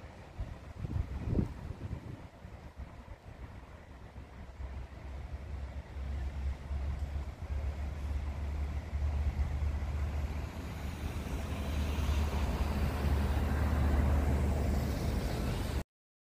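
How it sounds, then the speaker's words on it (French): Strong wind roars steadily into the microphone outside a clinic in Khouribga, Morocco, a dense low rumble with gusty buffeting that grows louder toward the end. "il y a un vent violent"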